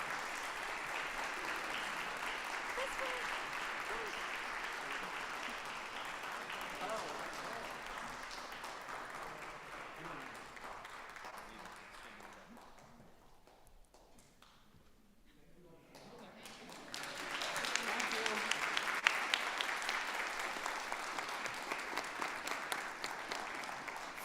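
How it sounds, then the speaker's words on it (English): An audience at a climate symposium applauds in a sustained, dense wash of clapping that dips briefly midway, then swells again loudly. "please give a big round of applause to everyone here"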